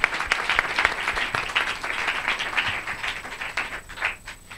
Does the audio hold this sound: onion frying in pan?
no